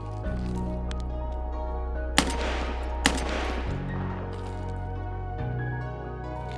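Two sharp gunshots ring out a second apart in Escape from Tarkov, a hardcore-mode raid on the Customs map, each with a short echoing tail over a steady hum of game ambience and music.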